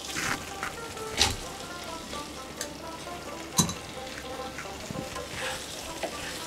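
Fried potatoes sizzle in poppy seed paste in a pan, a soft steady crackle with a few sharp stirring clacks from a spoon against the pan.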